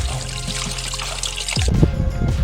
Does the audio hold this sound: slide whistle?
no